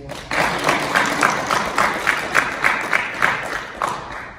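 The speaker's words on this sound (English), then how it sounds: "If you can give them a round of applause for their team" Audience applause at a drill sergeant ceremony, a steady wash of many hands clapping with rhythmic pulses, fairly loud and close, running alone for several seconds.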